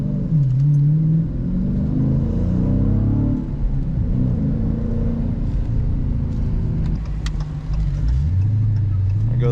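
A 2021 Dodge Challenger R/T Scat Pack 392, a heavy front-engined car, accelerates on the road with steady loud engine rumble and rising, falling pitch through shifts, heard from inside the cabin.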